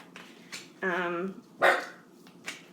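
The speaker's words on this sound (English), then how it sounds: "I got dogs in here." Dogs barking indoors: a sustained harmonic bark-whine, then a louder sharp bark, with a few smaller yips and thumps scattered around, fairly close in a room.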